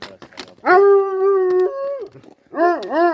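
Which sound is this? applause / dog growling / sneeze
dog growling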